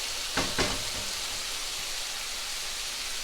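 Vegetables sautéing in a pan for Singapore noodles: a steady, close, hissing sizzle throughout, with a couple of brief louder crackles near the start as the pan is stirred.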